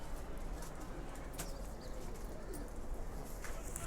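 Lal Patti pigeons kept at a house, cooing faintly amid a soft hiss of background noise, with a brief sharper sound partway through.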